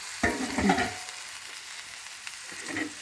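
Sliced onions fry in a pan for an egg fry with a soft, steady sizzle. A few close clatters come as the onions are turned or a lid is lifted early on, then the frying carries on quietly with no talk.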